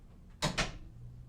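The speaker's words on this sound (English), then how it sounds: "Close that door, please." A door is pulled shut indoors, giving two quick, close thuds in quick succession against a quiet room background.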